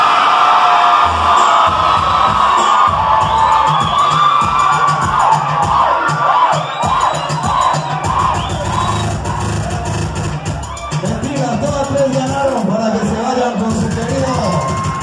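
A loud live crowd at a DJ party in Cali cheers, whoops and shouts close by. Yells and excited voices overlap continuously, with amplified talk mixed in.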